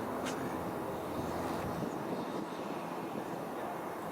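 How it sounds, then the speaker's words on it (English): A steady, broad engine roar of an airplane passing overhead, distant and constant, mixed with faint wind noise. "And there's an airplane."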